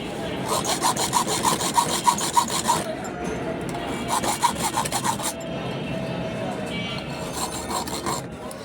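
A hand saw cuts through a wooden piece in quick, rhythmic back-and-forth strokes, close and loud, with a short pause partway through before the rasping strokes resume.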